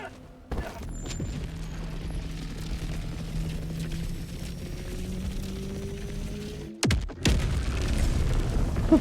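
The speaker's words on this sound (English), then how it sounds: "I'm gonna see this explosion up close." Deep rumbling blasts from the Helldivers video game, a low sustained roar broken by a sharp burst near the end, with brief player talk in the mix.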